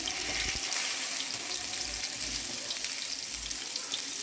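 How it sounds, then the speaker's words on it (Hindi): Chicken chapli kababs frying in oil, a steady, close, continuous hiss and sizzle with no talking over it. "अब फ्राई करने लगे हैं"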